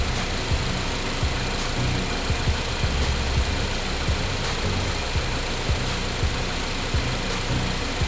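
A car engine idles steadily as it warms up during a cylinder head gasket test, a constant close mid-low rumble with faint irregular ticking and no voices.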